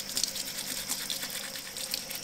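A toothbrush scrubs between the teeth of a preserved fish jaw at a campsite, giving a steady, fast, close-up bristly rasp with rapid rhythmic strokes and no voices.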